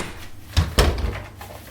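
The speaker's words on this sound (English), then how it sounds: "The door is open." Door opening indoors, two quick thuds close together followed by a short rattling swing, loud and near, with no talking.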